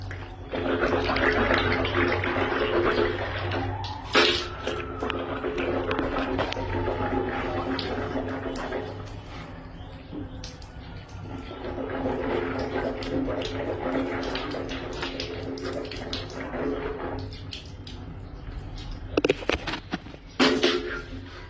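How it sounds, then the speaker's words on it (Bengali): Water runs steadily from a tap close by, a continuous splashing trickle with a few louder gushes. "এই এক ফোঁটা করে পানি পড়ে"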